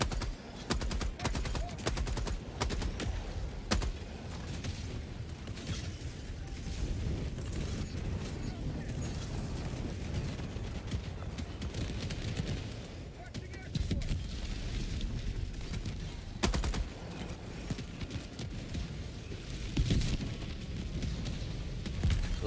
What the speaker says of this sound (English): Yep, thank God for my mortar.